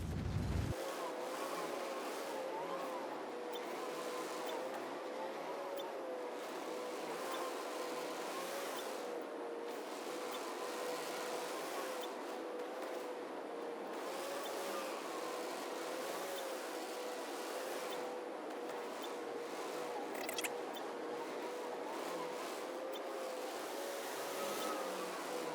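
The engine of an Avenger Titan spaceship in Star Citizen hums and roars steadily through a night race, with a sustained droning whine and airy hiss, no speech over it.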